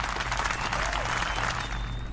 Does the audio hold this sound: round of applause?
yes